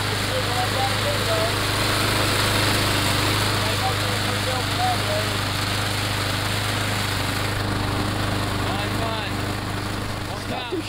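A small gasoline engine that had sat unused for three years runs steadily at close range, a constant rough drone with a low hum throughout, loud and unbroken for the whole stretch.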